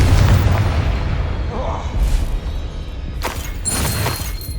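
In Hogwarts Legacy, the Confringo explosive spell bursts with a deep, rumbling boom and crackling blast over game combat noise and a speaking voice.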